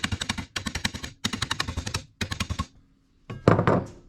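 Rapid hammer blows on universal joints clamped in a vise on a Chevrolet K-10 Blazer drivetrain, sharp metallic strikes in quick bursts of five to eight hits, separated by brief pauses, close and loud.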